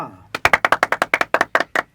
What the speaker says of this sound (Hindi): आपकी तालियां हमें बताएंगी कि आप इनको देखकर कितना खुश हैं